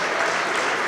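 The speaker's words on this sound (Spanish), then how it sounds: "Si va a aplaudir, aplauda con ganas, porque está muy tímido su aplauso." Sermon congregation applauding in a church hall, a steady even patter of many hands held for under a second before a louder burst cuts in at the end.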